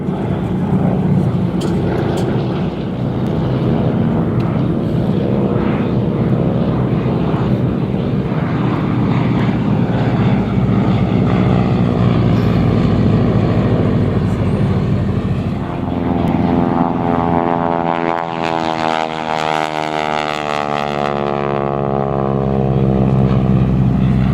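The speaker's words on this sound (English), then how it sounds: "Valiant BT-13 powered with the 450 horsepower Pratt & Whitney R985." A Valiant BT-13 trainer with a 450 hp Pratt & Whitney R985 radial engine drones steadily overhead during a World War II aerobatic training display, its loud propeller roar swelling and shifting pitch as it passes.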